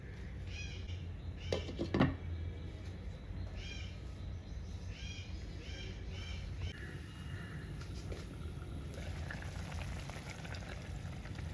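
A broad bean curry broth bubbles at a steady rolling boil, heard as a faint, continuous hiss. Thin bird chirps and a brief clatter rise above it.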